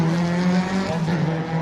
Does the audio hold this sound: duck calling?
no